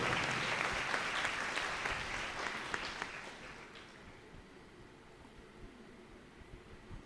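A church congregation applauds at a Father's Day service, dense and loud at first, then thinning out after about three seconds and fading to scattered claps and quiet room noise.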